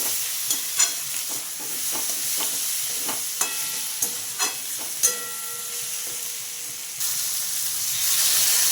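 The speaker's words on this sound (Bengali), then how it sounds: "এটাও নাড়াচাড়া করে মিশিয়ে নিচ্ছি।" Pointed gourd frying in a pan with cumin and coriander powder, a spatula scraping and knocking in irregular strokes over a steady sizzle that grows louder near the end.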